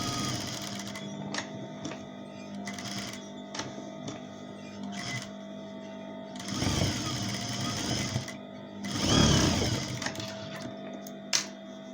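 A sewing machine runs stitches into the lining of a home-sewn skirt, whirring in short bursts separated by pauses, with a longer, louder run near the end and little else in the room.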